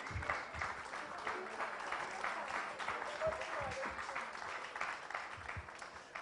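A seated audience at a book launch applauds in a sustained, moderately loud wash of clapping with some livelier bursts, while voices murmur and talk underneath.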